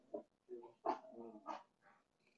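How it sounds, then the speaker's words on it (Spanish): Small dogs bark and yip at home, a handful of short, quiet barks and whimpers spread unevenly over a couple of seconds, heard at a distance with no talk over them. "por eso están haciendo ruido los perritos"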